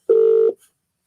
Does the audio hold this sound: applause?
no